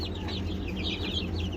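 Chicks of various domestic chicken breeds cheep and peep in a dense, continuous chorus over a steady low hum, the high calls overlapping throughout at close range with no voices.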